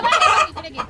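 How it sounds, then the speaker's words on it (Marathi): Free-range village roosters in a backyard cluck loudly and close by, a dense burst of overlapping calls followed by a couple of shorter, quieter clucks, with no talking. "आमच्या अंगणातले कोंबडे"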